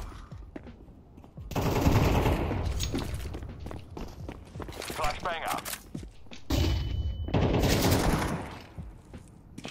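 Rapid bursts of automatic gunfire in Counter-Strike 2, loud and close in two clusters with a quieter stretch between, with voices talking over parts of it.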